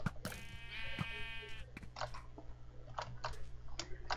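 A sheep in the Minecraft video game bleats in one clear, wavering call near the start, followed by scattered clicks and short game sounds at a low level, with no talking.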